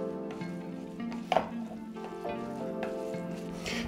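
Passata is stirred into a vegan stuffed-pepper filling in a pan, soft scraping strokes over a low sizzle with one sharp clack of the spoon partway through.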